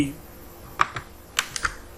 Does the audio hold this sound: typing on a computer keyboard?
yes